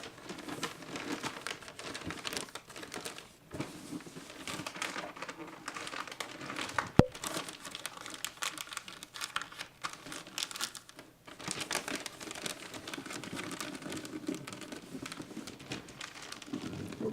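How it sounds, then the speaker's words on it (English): Wrapping paper crinkles and rustles continuously as it is folded, flattened and creased around a gift, a close, soft, busy crackle with one sharp snap midway and no talk. "So you're going to bring the paper in and flatten it to all the creases."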